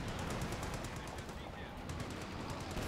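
Sustained MG42 machine gun fire in Company of Heroes 2, several guns firing at once on a wooded battlefield map, a dense continuous rattle of rapid bursts held steady and loud throughout.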